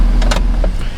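A Chevy truck engine running rich holds a steady low drone as throttle is applied, a close, continuous rumble with faint whirring on top throughout the short stretch.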